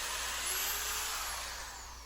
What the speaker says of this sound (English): I come back and I pre-drill the holes